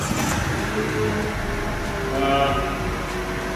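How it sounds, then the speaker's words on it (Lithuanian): A car engine starts and settles into a steady idle, triggered remotely from a phone app, heard close with a voice talking over it. "po to mes matom, kaip mūsų automobilis užsiveda"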